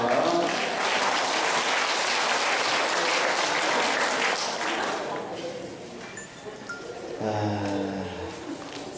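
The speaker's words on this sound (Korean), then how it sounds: "하나님께 건강의 박수 드립니다" Steady, loud applause from a room full of people at a church gathering, continuing throughout before tapering slightly near the end.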